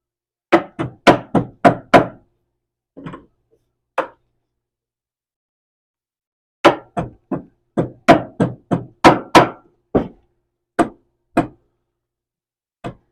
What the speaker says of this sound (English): Use the rubber end of the hammer.